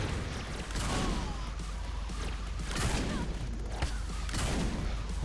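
Repeated heavy cannon blasts from an oversized gun in Saints Row 4, several booming shots spaced a second or so apart over a constant low rumble, with faint talk mixed in.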